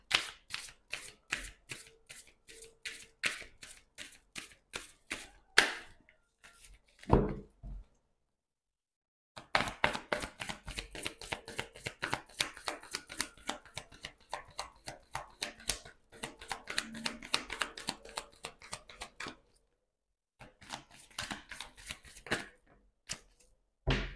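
Tarot cards being shuffled in repeated quick riffling bursts, close and crisp, with a couple of short pauses between rounds and no talking.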